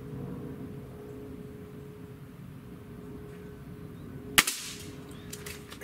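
A Gamo Swarm Magnum .22 caliber multi-shot breakbarrel air rifle fires once: a single sharp, fairly loud crack near the end, after a quiet stretch of low background hum, followed by a short fading echo.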